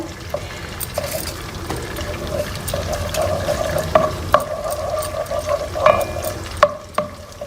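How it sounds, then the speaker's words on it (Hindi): Butter melts in a pan for béchamel sauce, giving a soft, uneven sizzle with small pops and clinks throughout, close and moderately loud, with no voices. "ये बेशामेल सॉस है, इसको आपने ऐसे बटर को मेल्ट करना है"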